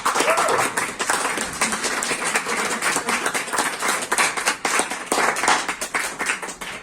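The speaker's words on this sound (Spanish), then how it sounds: "Y un aplauso para ella y ya." Audience applause at a literary event, dense hand clapping filling the whole stretch at steady loudness with no talk over it.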